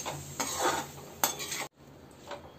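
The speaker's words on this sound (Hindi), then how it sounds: "और इसको अच्छे से मिक्स करके इसको 20-25 मिनट तक हम सिम गैस पर ही पकाएंगे।" A spoon scrapes and clinks against a pan while sweet mango pickle cooked in sugar, with coriander, is stirred over low gas. Brief scraping strokes, a sharp clink mid-way, then a quieter stretch of stirring.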